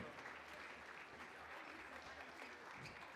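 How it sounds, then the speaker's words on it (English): Steady applause from a sizable audience, dense continuous clapping at an even level throughout, with faint crowd murmur underneath. "Make sure the back row gets some applause too as they go across."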